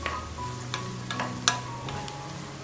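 Chopped vegetables and onion being stir-fried for cabbage thoran, a steady close sizzle broken by several sharp scrapes and taps of a spoon against the pan.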